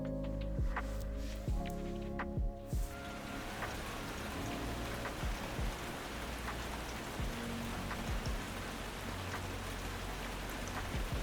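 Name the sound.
rain falling non-stop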